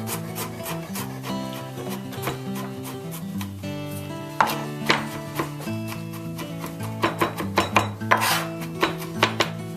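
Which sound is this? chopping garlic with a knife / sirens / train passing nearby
chopping garlic with a knife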